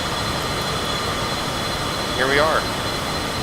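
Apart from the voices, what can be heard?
Cessna Citation CJ4 jet engine noise heard in flight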